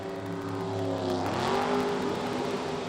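A Corvette Roadster class racer revs and accelerates at a racing event, a steady loud engine tone with rising harmonics that sweeps upward midway, heard alone without talk.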